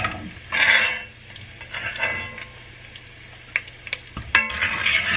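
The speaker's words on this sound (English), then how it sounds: "Okay, so our bacon is done, so I'm just gonna scoop it out." Crispy fried bacon scooped out of a hot pan, with scraping and clinks of a utensil against the pan over soft sizzling grease, close and moderately loud.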